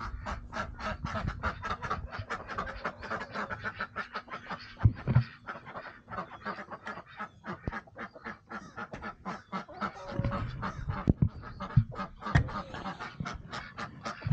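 Farm birds honk and call excitedly in a dense, rapid chorus of overlapping cries, close and steady throughout, with a few louder squawks standing out.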